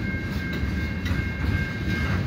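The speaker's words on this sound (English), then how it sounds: "So far, this is the only train though." A CN transfer freight train rumbles past on a rainy evening at Des Courcelles Street, a steady low roar with faint rail clatter and a high steady tone, continuous and fairly near.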